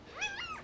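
A one-day-old puppy gives a single faint, high, wavering whimper up close, brief and alone with no talking.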